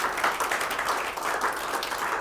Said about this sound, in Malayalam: മടി പാടില്ല ക്ലാപ്പ് കൊടുക്കാൻ.